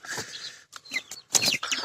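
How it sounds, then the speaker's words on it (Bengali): Free-range desi chickens and chicks on a farm make short clucks and chirps in quick irregular bursts, close and clear, with no talk over them. "দেশি মুরগির বাচ্চাগুলো দেখতে পাচ্ছেন যে এদের যে খাবার উৎকৃষ্ট অংশ ছিল সেগুলো কিন্তু খাওয়ার চেষ্টা করছে"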